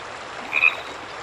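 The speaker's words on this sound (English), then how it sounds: "Frog." A single short frog croak plays as a sound effect in a Berenstain Bears Sunday school children's app, close and clean, with no talking.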